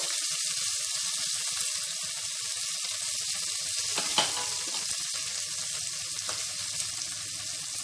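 Chopped green chillies and onion pieces sizzling in hot oil with popped mustard seeds for a potato-tomato curry, a loud steady frying hiss with occasional stirring scrapes.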